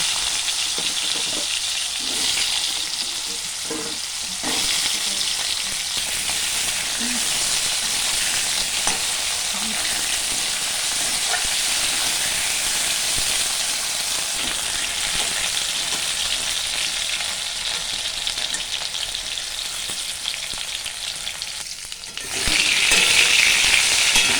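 Potatoes fry in a pan of hot oil for a soybean curry, a loud, steady sizzle with stirring scrapes that runs on for a long stretch and swells near the end.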